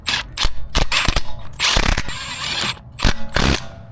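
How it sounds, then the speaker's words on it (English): Ratchet clicking in quick bursts while tightening nuts on the strut tower mount of an R53 Mini Cooper S, loud and close, with short pauses between runs of sharp pawl clicks and no talk. "now we just put in these nuts"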